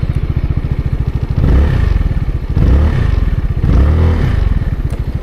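ZONTES 368G adventure motorcycle starting up and idling nearby, a loud steady mechanical putter with rhythmic clatter and a few brief blips of revving, no speech.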